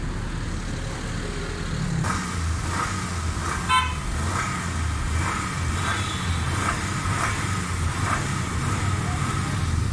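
A Suzuki Khyber car with fuel missing, a pickup problem and a worn silencer runs at a fast, high idle, a steady close engine drone with a brief horn toot near the middle.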